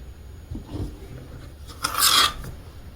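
A rotary cutter rasps briefly across quilt fabric on a cutting mat, a short scraping stroke near the end, after softer shuffling handling sounds.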